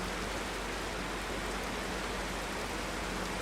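Steady rainfall in the video game Minecraft, a dense even hiss of falling rain that fills the whole moment without pause.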